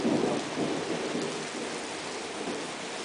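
Steady rain falls through a thunderstorm in Germany, a dense broadband hiss with low rumbling swells of thunder near the start, continuous and fairly loud with no voices.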